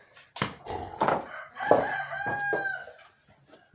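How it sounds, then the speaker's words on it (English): Loud rooster on a homestead crowing close by, one full drawn-out cock-a-doodle-doo with a rising, strained final note, preceded by a few short clucks. "My super loud rooster."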